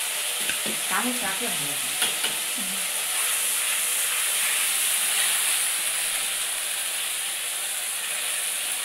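Potatoes and green chillies fry in a hot wok with a steady, close sizzling hiss, and a few scraping stirs come early on. A voice speaks briefly over the sizzle.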